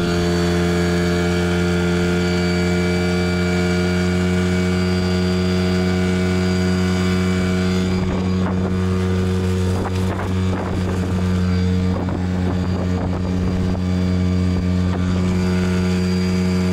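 Yamaha 3AMHS outboard boat motor running steadily with a loud, even droning hum, later joined by rattling, clattering mechanical noise in the second half; no talking.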